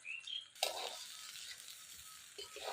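Vegetables and broken rice fry for a traditional Bengali khichuri, hissing in a steady close sizzle with a few stirring scrapes and bursts.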